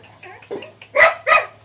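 Two loud, sharp barks close by from a pet dog, probably Brownie, at feeding time at home, following a few fainter yelps and sounds.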